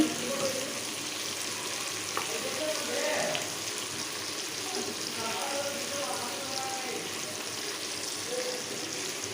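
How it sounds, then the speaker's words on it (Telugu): Fish frying in oil with curry leaves, a steady low hiss of sizzling oil lasting the whole stretch, with faint background voice. "మంచిగా రెండు వైపులా గోల్డెన్ కలర్ వచ్చిన దాకా ఫ్రై చేసుకోవాలండి"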